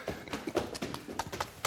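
Horse hooves clip-clop in an irregular run of sharp, close knocks over about two seconds, fairly quiet, with a little faint background noise.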